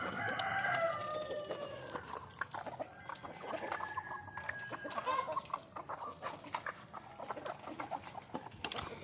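Several chickens cluck and call over a busy farmyard background, with a rooster-like crow near the start and steady chatter throughout.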